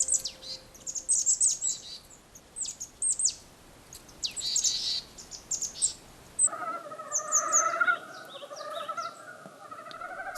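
Wild birds call in a winter forest of Korean pines in a valley near the Russian border, bursts of high chirps and trills, some close and some farther off, with quiet gaps between.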